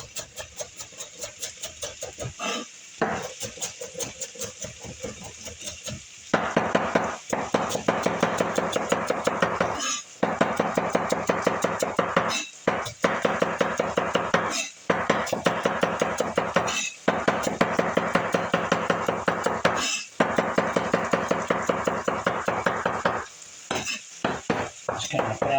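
A knife slices celery on a cutting board in a home kitchen during chili prep, a steady run of close, crisp chopping taps with brief pauses between passes, no talking.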